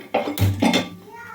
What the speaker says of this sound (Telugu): తాలింపు కోసం అయితే ఒక కళాయిని అయితే పెట్టానండి వెడల్పుకున్న కళాయి